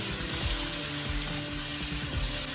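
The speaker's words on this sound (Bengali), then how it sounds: "আলু ভাজা হচ্ছে" Potato pieces sizzle and crackle in hot oil in a pan while a Bengali chicken curry is prepared, a steady close frying hiss with a few stirring scrapes and no talking.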